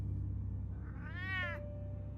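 A cat meows once in the Batman: The Telltale Series video game, a single rising-and-falling cry of about half a second, clear and close over a steady low background hum.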